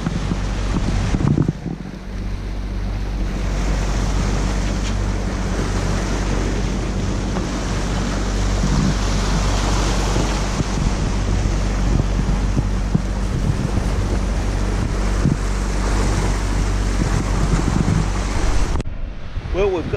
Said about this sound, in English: So we're just motor sailing along, waiting for the breeze to come up as usual.